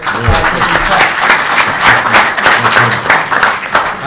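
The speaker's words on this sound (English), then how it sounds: "perhaps with a round of applause you could say thank you to everyone who's here" An audience at a Kashmir Solidarity Day gathering breaks into a round of applause, a loud continuous patter of many hands clapping with uneven surges, and faint voices underneath.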